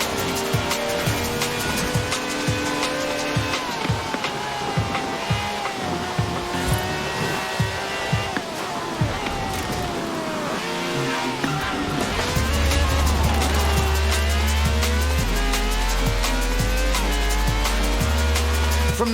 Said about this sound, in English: This has a V12 with over 750 horsepower, plus bucket seats